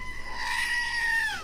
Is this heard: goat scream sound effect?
yes